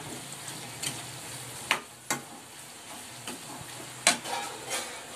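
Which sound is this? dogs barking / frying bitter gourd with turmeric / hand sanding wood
frying bitter gourd with turmeric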